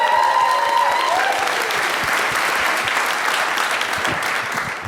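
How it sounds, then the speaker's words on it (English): A crowd gives a sustained round of applause and cheering, loud and steady throughout, with faint voices mixed in, tapering slightly at the end. "let's give a round of applause"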